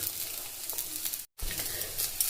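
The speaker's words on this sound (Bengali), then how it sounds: "খুব ভালো করে এটাকে ভেজে নেব" Steady, close sizzling of ginger, semolina and turmeric frying in hot oil in a pan for potato paratha filling, continuous apart from a brief silent gap midway.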